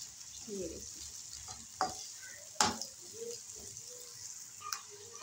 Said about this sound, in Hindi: प्याज डालने के बाद इसको करेंगे बिल्कुल लाइट सा ब्राउन।